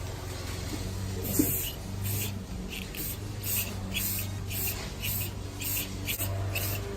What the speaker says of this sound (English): shake your can up for about a minute and just hit light coats of it